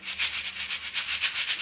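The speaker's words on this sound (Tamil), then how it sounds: "சல்லடை வச்சு நல்லா சலிச்சுட்டு அளந்து பொரி செஞ்சிடலாம்." Puffed rice (aval pori), roasted in sand, shaken through a kitchen sieve, a dry rhythmic rustling hiss that swells and fades about five times a second, close and without talk.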